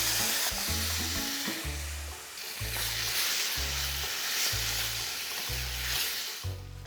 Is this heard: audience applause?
no